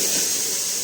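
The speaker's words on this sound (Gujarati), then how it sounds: "અત્યારે હવે હું દાળનો વઘાર કરી રહી છું" A tempering (vaghar) for dal sizzling in hot oil, a loud, steady, close hiss throughout the brief moment, with no speech over it.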